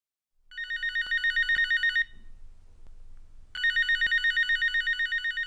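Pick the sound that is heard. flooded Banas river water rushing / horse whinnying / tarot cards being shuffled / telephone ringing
telephone ringing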